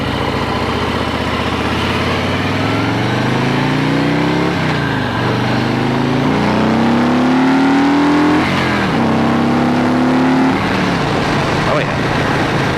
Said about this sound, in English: Engine just sounds good.